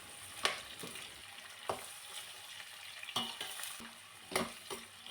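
Chopped carrots, cauliflower and beans stirred and fried in a pan for veg pulao, a steady soft sizzle broken by several sharp scraping stirs spaced a second or so apart, close and moderately quiet, no voices.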